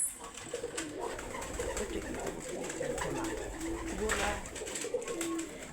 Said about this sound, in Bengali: এই যে সামনে যে কবুতর দুটো দেখতে পাচ্ছেন এটা হচ্ছে মক্ষী কবুতর